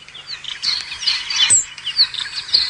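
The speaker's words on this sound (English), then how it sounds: "Let me get the call out for you so that we can hear it nicely. Right, pygmy kingfisher." Pygmy kingfishers call on an evening safari drive, high thin chirps repeating in quick irregular bursts, fairly loud and close, with no one speaking over them.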